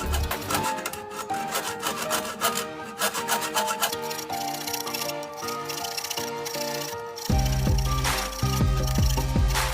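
A wooden stick being cut to length for a model car drive shaft, with steady back-and-forth saw strokes rasping close up over a busy musical backing.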